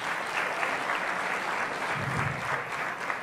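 A crowd applauds steadily at moderate volume, a dense even patter of clapping heard from some distance with no talk over it.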